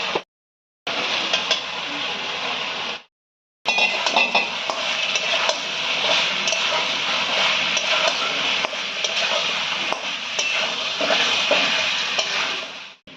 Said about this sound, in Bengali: এই সময় আমরা ভেজে রাখা আলুটা দিয়ে ভালো করে কষিয়ে নেব